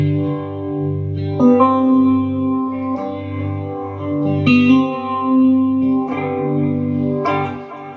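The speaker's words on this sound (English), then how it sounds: "Alright, let's turn on some tremolo." Distorted electric guitar run through a tremolo effect, playing sustained notes and chords with a pulsing, wavering volume over about eight seconds, with no talking.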